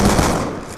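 A single loud, close blast from the M1216 shotgun in Black Ops 2, a sharp burst that fades quickly.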